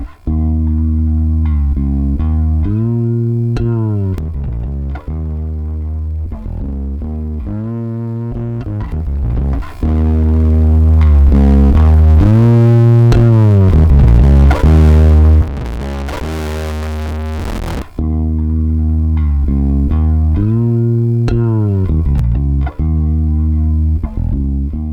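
Sustained synth-like notes and chords pass through a compressor set to very short attack and release times, giving a gritty, buzzing distortion. The tones are loud and close, alone, and shift pitch in short phrases with a denser swell midway.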